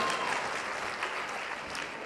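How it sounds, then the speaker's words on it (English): An audience at a student showcase applauds a band, giving steady, dense clapping throughout with no voices standing out. "Let's clap it up for them."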